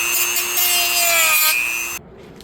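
A tool trims a plastic mount on an Infiniti G37/Q50 side mirror, giving a close, loud, continuous grinding whine with a steady pitched tone that cuts off abruptly after about two seconds.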